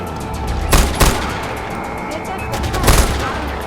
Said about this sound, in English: Don't run in front of the guy with the machine gun